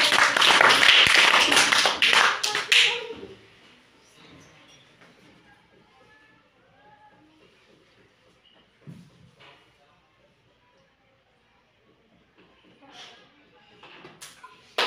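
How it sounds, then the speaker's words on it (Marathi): Hands clapping in a brief loud burst at the start, then fading into quiet room sound with faint scattered voices. "छान, टाळ्या वाजवा."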